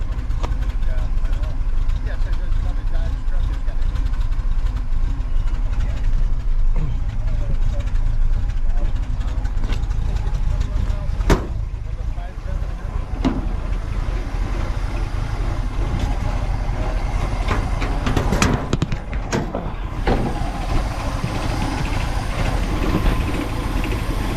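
The engine of a 1967 Chevy Nova runs without its carb cheater, a loud, steady low rumble close by that holds throughout, with a few brief sharper knocks over the top.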